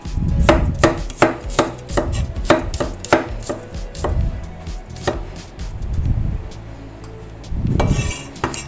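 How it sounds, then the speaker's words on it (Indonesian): A knife slices garlic thinly on a cutting board for a chayote stir-fry, giving a quick run of crisp, close chops that pause and then resume in short bursts. "Ini bawang putihnya saya iris tipis saja."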